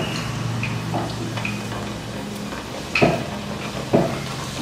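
Kalakala dough pieces frying in hot oil, a soft continuous sizzle with two louder bursts of bubbling and clinking as pieces drop in, close by, with no voices.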